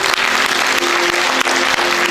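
Students' audience at a school show honoring the Romanian Centenary claps loudly and steadily, close and continuous applause with no talk over it.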